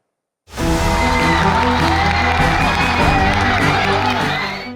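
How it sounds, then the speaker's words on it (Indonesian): Students at SMP Negeri 111 Jakarta Barat cheer and whoop loudly and continuously as a crowd welcoming President Prabowo Subianto, with shouting voices filling the whole clip after a brief silent start. "Kedatangan Presiden disambut antusias dan sorak gembira para siswa yang menyambut langsung kehadirannya di lingkungan sekolah."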